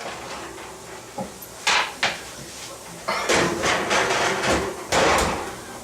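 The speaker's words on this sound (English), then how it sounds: "Pull them out of the oven here." A baking tray of falafel comes out of a hot oven: a few sharp metallic clanks and knocks, then a longer stretch of rattling and scraping of the pan and oven rack, close by.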